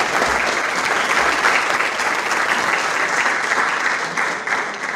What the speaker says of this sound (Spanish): Vamos a brindarles el aplauso correspondiente para la bienvenida